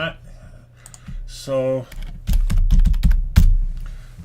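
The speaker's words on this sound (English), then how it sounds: "I'm typing hello in the chat." Rapid clicking keystrokes on a computer keyboard as someone types a message into a chat, loud and close in irregular bursts, with a short spoken word and a brief tonal sound just before.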